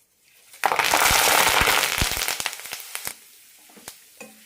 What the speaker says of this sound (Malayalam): ഈ എണ്ണയിൽ തന്നെ കുറച്ച് കറിവേപ്പില കൂടി വറുത്തെടുക്കാം